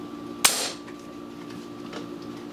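An ATI Nova Liberty airgun fires a single sharp, close shot that is followed by a brief decaying hiss and then quiet background noise.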